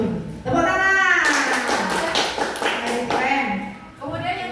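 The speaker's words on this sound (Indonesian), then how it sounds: "Keren, tepuk tangan." A group claps in brisk bursts during a presentation in Indonesian, the clapping heard nearby under and between a speaker's voice.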